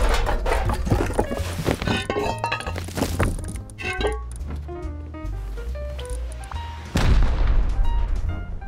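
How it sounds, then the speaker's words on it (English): Rocket explosions during a raid in the video game Rust, a series of heavy booms and thuds at irregular intervals, some near and loud, with a strong blast near the end. "Are those real rockets or what?"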